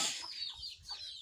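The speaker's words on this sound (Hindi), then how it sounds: "मुर्गा बोल, कितना बड़ा मुर्गा" A chicken in a village setting clucks and calls in short bursts at close range, fairly faint, with no talking.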